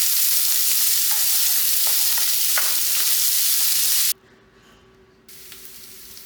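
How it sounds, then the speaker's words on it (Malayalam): Onion and green chili sautéing in hot coconut oil for a Kerala chicken dish, a loud steady sizzle with stirring scrapes, abruptly dropping to near silence before a fainter sizzle resumes. "അത് ചൂടായ ശേഷം നമുക്ക് ഇനി ഉള്ളിയും പച്ചമുളകും നല്ല പോലെ വഴറ്റിയെടുക്കാം"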